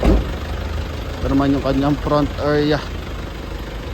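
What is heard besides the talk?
diesel engine of 7-seater vehicle idling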